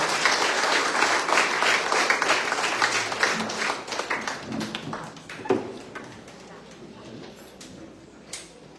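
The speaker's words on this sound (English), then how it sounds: "Let's give them another round of applause" Graduation audience at a government school ceremony applauding steadily, dense clapping that thins out and fades toward the end, with scattered louder individual claps.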